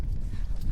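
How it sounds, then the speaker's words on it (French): Hooves of a dressage horse clip-clopping at close range, a steady run of dull thuds over a low rumble of ground noise, with no voices. "Un cheval de dressage."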